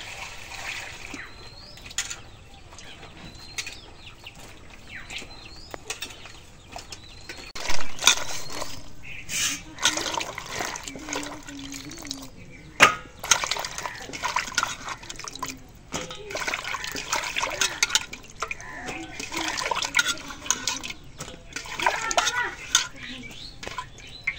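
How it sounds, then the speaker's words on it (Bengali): Freshly cut potatoes and eggplant being washed in water in a kitchen, with continuous splashing, trickling and sloshing, occasional clinks of a pot, close by and moderately loud. "এখন আলু বেগুন কোটা শেষ, এখন ধুয়ে নেই।"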